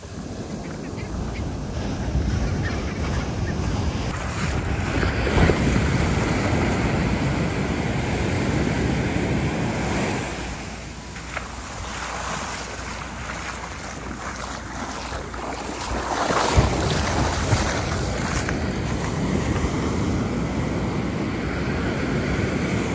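Ocean waves wash onto a California beach under steady wind, the surf rising and falling in broad swells while gusts buffet the microphone throughout.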